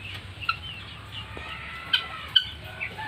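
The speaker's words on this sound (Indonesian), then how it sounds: "Itu tuh ayam Birma namanya." A Burmese chicken, a fierce fighting-type breed, gives a few short, sharp calls, three distinct ones spaced over a few seconds, above a quiet low background hum in an unspoken setting.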